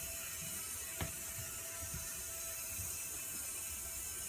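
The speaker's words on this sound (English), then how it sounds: "And now it's doing a circular turn, which has one motor moving a lot faster than the other." The small motors of a student-built robot whir faintly while it drives in a circular turn with one motor spinning faster than the other, with one brief mechanical click and a low steady hum and no talking.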